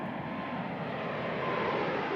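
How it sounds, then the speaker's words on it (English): A Boeing 747-8 jet in flight during flutter testing at high speed, a steady broadband engine and airflow roar heard from inside the aircraft, moderately loud and unbroken. "Next, they put this new jet through the flutter test."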